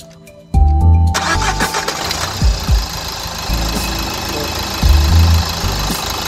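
A Citroën Nemo van engine cranks and catches after a brief quiet moment, then runs at a loud, uneven idle with a couple of revs, recorded close up with no talking.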